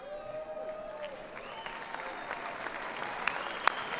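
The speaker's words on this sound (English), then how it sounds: "Yeah, clap that shit up." Moderate crowd clapping, steady and fairly close, with a voice talking over it and a few sharper claps near the end.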